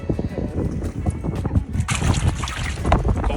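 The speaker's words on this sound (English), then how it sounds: "It is super windy out here." Strong wind buffets the microphone on a Lake Ontario bay during fall perch fishing from a boat, a constant low rumbling roar with gusty bursts, with a voice talking underneath.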